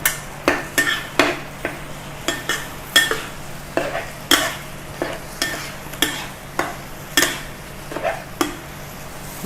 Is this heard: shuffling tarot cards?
no